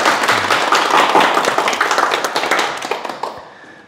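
Audience applause at a Korean Buddhist Sunday lecture, a dense wash of clapping hands that holds steady for about three seconds and then thins and fades out near the end.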